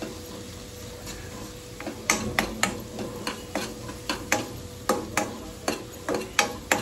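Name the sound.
stirring and mixing turmeric into food in a pan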